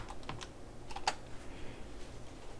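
Quiet, close keystrokes on a computer keyboard while coding JavaScript in the CodePen editor, a brief cluster of soft clicks with one sharper tap, otherwise faint.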